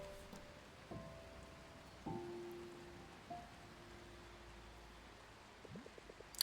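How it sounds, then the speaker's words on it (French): Steady, soft rain falls in the video game Until Then, a gentle hiss laid under quiet melodic tones and occasional light chimes, with no voices. "Il pleut"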